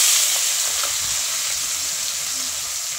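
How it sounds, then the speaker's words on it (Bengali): Fish fry in well-heated oil in a pan, a loud, steady crackling sizzle with a bright hiss that eases slightly over three seconds, with no voices. "এবার আমি মাছগুলো ভেজে নেব।"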